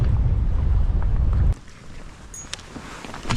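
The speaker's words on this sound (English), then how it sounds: "Now this is windy." Strong wind buffeting the microphone while kayak fishing in winter, a loud low roaring rumble that drops off sharply after a second and a half, leaving quieter gusts and faint water and clicking sounds.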